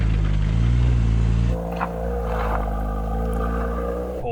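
A Porsche strains through an off-road challenge, its engine a loud low rumble that eases off partway, then settles into a steady drone with a few faint knocks.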